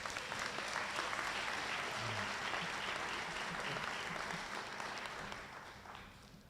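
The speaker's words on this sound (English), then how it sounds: "Can we get a clap for that," Clapping fills the room at a Mount Vernon Police Department swearing-in ceremony as the audience applauds the officers, dense and steady, then gradually thinning and fading over the last second or so.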